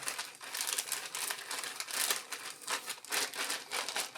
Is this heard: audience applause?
no